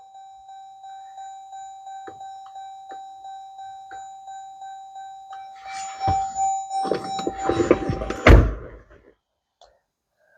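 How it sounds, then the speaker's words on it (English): A 2017 Dodge Durango RT dashboard warning chime sounds with the engine off during an oil change, a steady string of evenly spaced beeps followed by a few clunks and rustling handling noises before it stops. "Sorry about the beeping."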